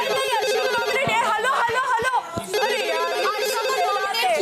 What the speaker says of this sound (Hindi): फोन आ रहा है, मैं उठाऊंगा भाई